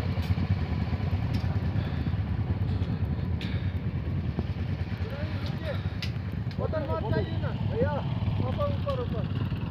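Motorcycle engine running steadily after starting, on a cold bike ride toward Sandakphu: a continuous low rumble throughout, with people talking over it in the latter half.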